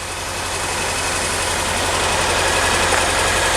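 A 1987 Ford Thunderbird engine idling, a steady low rumble with a regular rapid pulse, close and fairly loud, with no voices.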